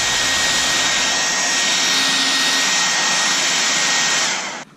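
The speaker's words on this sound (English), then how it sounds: "Go over it with a heat gun" A heat gun blows steadily on vinyl wrap over a Chevy SS car door handle, a loud, even whooshing roar held close for several seconds before it cuts off at the end.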